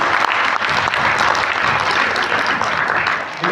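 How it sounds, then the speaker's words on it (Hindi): A seated audience at a sales training session breaks into loud, sustained applause, a thick continuous roar of many hands that fades slightly at the end. "तो एक बार शानदार ताली आप लोगों के लिए होनी चाहिए"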